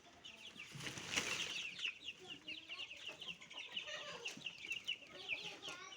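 A flock of native desi chickens in a farm shed clucks and chatters continuously, with overlapping calls at moderate distance and a faint voice now and then.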